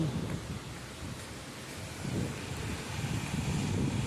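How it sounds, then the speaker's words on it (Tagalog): Heavy rain roars steadily with a low rumbling wash, swelling slightly toward the end, no voices. "Lakas ng ulan."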